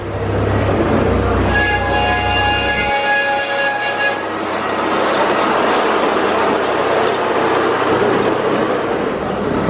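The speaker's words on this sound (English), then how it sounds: "I think I'll go for a little ride around the park in the Pleasure Beach Express" Blackpool Pleasure Beach Express amusement park train rolling with a steady low rumble, a sustained tonal whistle or horn sounding for a couple of seconds early on, then continued clattering wheel and track noise close by.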